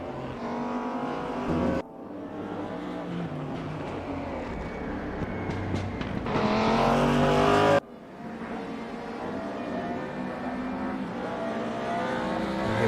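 A sim-racing Audi race car engine at full throttle, revving hard through the gears with abrupt shift cuts and a steady high-pitched drone that builds to a loud peak before dropping and climbing again.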